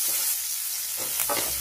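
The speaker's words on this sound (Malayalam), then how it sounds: "ഇനി ആ എണ്ണയിലേക്ക് തന്നെ എടുത്തു വെച്ചിരിക്കുന്ന ചുവന്നുള്ളി ചേർക്കാം." Shallots sauté in hot oil with a steady, close sizzling hiss, with a couple of brief stirring scrapes near the end.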